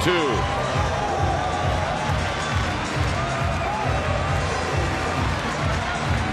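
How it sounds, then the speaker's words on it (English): A sellout ballpark crowd roars after the Giants' 3-2 walk-off win over Cincinnati, a dense, loud, unbroken wall of cheering and shouting that holds steady throughout, with voices mixed into the din. "So this sellout crowd, they don't want to leave. They are standing and they're waiting"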